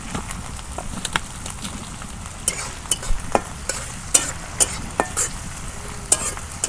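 Spatula stirring cabbage frying in mustard oil in a wok over a village wood fire, with sharp scraping clicks recurring irregularly over a steady low sizzle.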